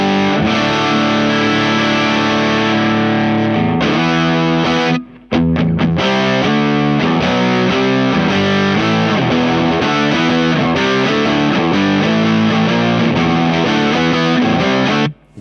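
Electric guitar played through mini humbuckers and a Boss FZ-1w Waza Craft fuzz pedal, with loud, thick distorted riffs and chords. One brief cut comes near the five-second mark, then playing continues steadily with no talking.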